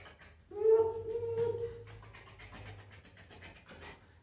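A voice mimics a train with a drawn-out whistling hoot, followed by quieter breathy chugging sounds.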